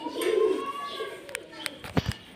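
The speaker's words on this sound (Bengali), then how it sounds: "চালাটার উপরে আমার এই যে কবুতর, অনেকগুলা কবুতর আছে, 5-6 জাতের কবুতর" Several pigeons of five or six breeds coo on a shed roof built above a cattle farm, a low rolling coo up close at the start, followed by a few sharp knocks and flutters toward the end.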